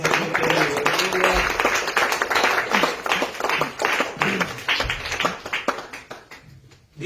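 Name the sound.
congregation clapping hands as offering to God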